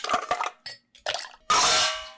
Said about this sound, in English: So let's add a few ice cubes in here.